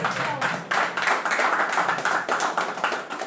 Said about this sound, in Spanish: ¡Aplauso para el pueblo!